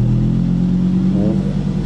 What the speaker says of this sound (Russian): Переключил глушитель на спорт режим.